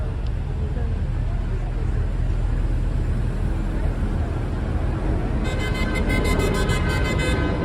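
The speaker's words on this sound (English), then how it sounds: "A lot of traffic here in downtown" Downtown street traffic in Brickell, Miami, on a Friday night, with a steady roar of passing cars, a toot and honk of car horns near the end, and people talking over it.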